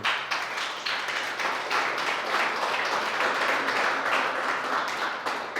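A church congregation applauds during a Spanish-language sermon on grace, sustained dense clapping from many hands filling the space steadily for several seconds without talk.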